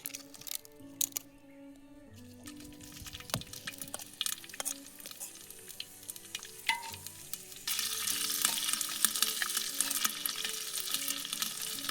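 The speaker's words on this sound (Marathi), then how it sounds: "सर्वात आधी तेल टाकून घेते तर आता आलं लसूण पेस्ट टाकून घेते" Ginger garlic paste goes into hot oil, with scattered clinks and stirring at first and then a loud, continuous close sizzle as it fries.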